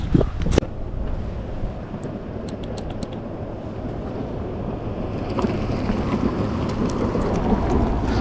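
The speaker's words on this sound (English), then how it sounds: "It's a little bit windy as you can see" Wind buffets outdoors by a folding electric bike, a constant loud rumbling roar close to the microphone, with a few faint clicks and taps scattered through it.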